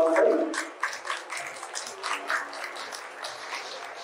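Modest applause from an audience at a government and industry panel on digital competition, clapping rising briefly then settling into a steady, fairly light patter with some murmuring.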